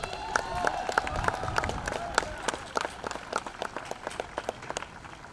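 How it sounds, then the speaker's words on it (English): A high school graduation crowd claps for the graduating seniors, scattered and fairly quiet, with distinct individual claps popping out over a soft murmur of voices. "Let's give them a round of applause."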